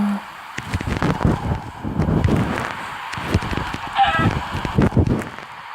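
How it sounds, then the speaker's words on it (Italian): Minecraft chicken clucking in the game, a series of short squawky calls repeating irregularly over a steady backdrop of rain, fairly loud and close with no talking. "Gallina."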